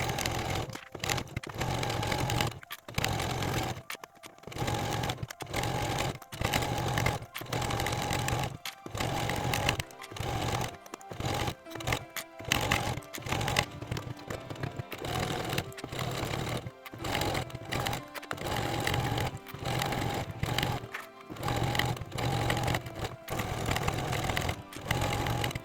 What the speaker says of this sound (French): Puis je couds de chaque côté à 5 mm du bord, en suivant bien toute la longueur de la sangle.